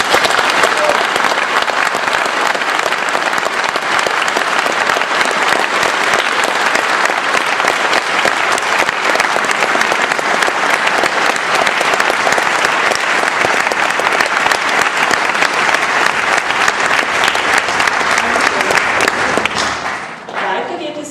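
Sustained applause from an audience at a bachelor's and master's graduation ceremony, a dense, even wash of clapping that holds steady for about twenty seconds before tapering off abruptly at the end.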